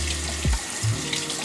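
Water runs steadily from a bathroom tap into a sink while someone wets their face, with brief splashes as hands scoop water, close and continuous.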